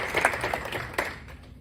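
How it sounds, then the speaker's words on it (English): Audience applause at an afternoon Korean culture business training session hosted by a chamber of commerce: a brief patter of many hands clapping at moderate volume, thinning out and fading to near quiet within about a second and a half. "Another round of applause for her."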